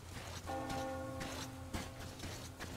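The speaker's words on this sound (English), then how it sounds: "Do you hear that bell?" A church bell rings out in the Metro Exodus video game, its sustained metallic tone lingering for about a second and a half over steady ambient background noise, with no talk.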